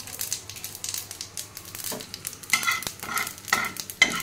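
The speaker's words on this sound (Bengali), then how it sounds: "একটু ফোড়নটা ভাজা ভাজা হোক।" Black cumin and radhuni spices sizzle and crackle in hot oil, with scraping stirring strokes and a few sharper pops toward the end, heard close up.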